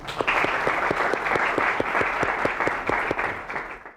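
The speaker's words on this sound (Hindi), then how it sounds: "तो प्लीज तालियां इनके लिए।" A talk show audience applauds steadily, dense clapping from many hands continuing for several seconds without a break.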